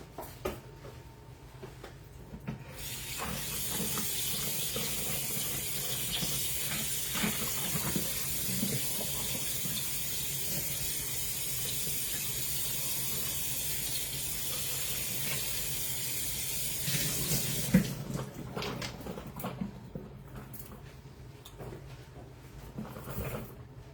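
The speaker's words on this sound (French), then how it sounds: "avant chaque utilisation, on le passe sous l'eau très chaude" Very hot tap water pours steadily over a baking mould in a kitchen sink, a constant hissing splash that starts after a few seconds and stops abruptly near the end, with faint handling clatter.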